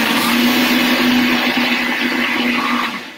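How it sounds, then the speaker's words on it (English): A countertop blender runs steadily, whirring loudly while blending a Thai-style sauce with juice and a pinch of salt, then its motor slowly winds down at the end. "Put that back on my blender."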